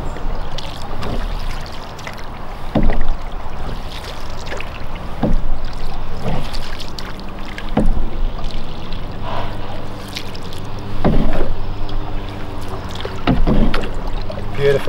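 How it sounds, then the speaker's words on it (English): A small boat is paddled upriver on a calm, lightly breezy day, with rhythmic strokes splashing and dripping every second or so, close and clear with a steady background. "We're paddling upriver"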